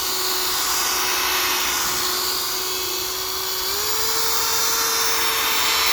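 A power sander wet-sanding a dome runs steadily with a sustained high-pitched whine that rises slightly in pitch partway through, close and loud with no talking.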